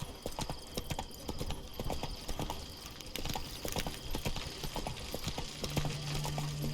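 Roach, the horse in The Witcher 3, trots along with a steady, close clip-clop of hooves that keeps up a quick rhythm throughout, with a faint tone joining near the end.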